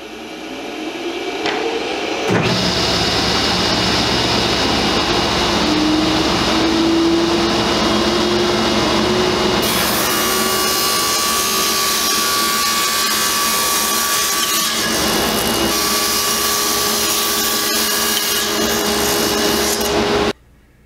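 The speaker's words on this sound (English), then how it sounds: "I got the table saw set up to cut a 45, and I'm going to just clip the back on both sides of the molding" Table saw set to a 45-degree bevel cutting the back edge of wood crown molding: a loud, continuous high whine with the grinding rasp of the blade biting through wood, running about eighteen seconds before cutting off.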